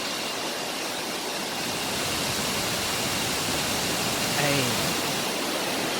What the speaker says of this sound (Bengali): এই এদিকে জল পড়ছে।